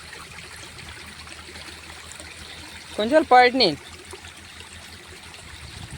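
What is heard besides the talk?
stream gurgling after heavy rain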